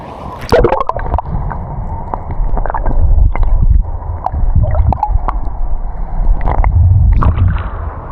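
Muffled underwater gurgling and sloshing from a camera submerged in seawater at a beach, with low rumbling, continuous throughout, punctuated by occasional bubbly splashes and knocks close by.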